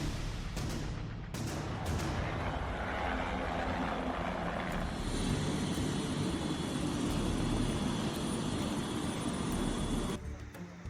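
A helicopter's rotor and engine roar steadily, loud and close, swelling midway and cutting off near the end, during a rescue of people injured when a bus plunged into the Alaknanda river in Rudraprayag, Uttarakhand.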